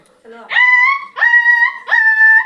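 A child in a village imitates a puppy's bark with three drawn-out, high yelping cries after a short low lead-in, loud and close, voiced alone.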